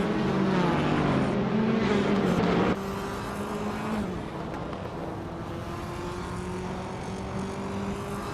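Race cars in a racing video game, several engines droning steadily together at high revs, with a sudden pitch shift as one car's note changes partway through.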